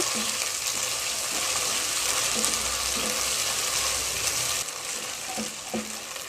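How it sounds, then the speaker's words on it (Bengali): Ginger paste and raw spices fry in hot oil in a pan for plain pulao, giving a steady, close sizzling hiss with a few faint stirring knocks. "তেলের ভেতরে কাঁচা মশলাটা ভাজা হয়ে গেছে"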